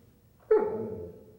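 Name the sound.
German Shepherd dog barking on hand signal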